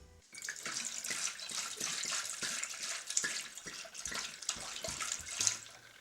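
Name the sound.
water running while washing bottles by hand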